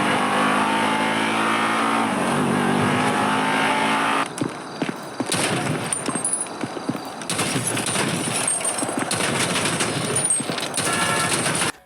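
Car engine sounds from GTA 5 played through a small JBL Go 3 portable speaker: a steady droning engine hum gives way to choppy revving and clattering game effects, loud and continuous throughout.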